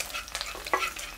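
Garlic fries in a spoonful of cooking oil with a soft, close sizzle, and a spatula stirs it with brief scraping taps, all fairly quiet and with no voices.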